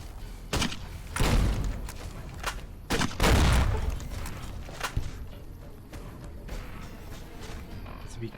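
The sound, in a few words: gunshots from the video game Fallout: New Vegas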